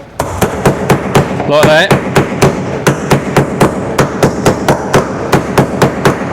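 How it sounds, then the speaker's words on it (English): A metal disc is hammered to stretch it into a cup, with sharp, evenly spaced ringing blows landing close by, briefly interrupted by a rattling clatter and a few spoken words. "all I've been doing is going around with a hammer, 2 different hammers, this big bugger"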